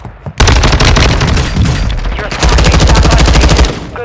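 Loud rapid automatic gunfire in Call of Duty Warzone 2.0 Resurgence quad play, a dense close burst of shots that pauses briefly and then resumes in another sustained volley.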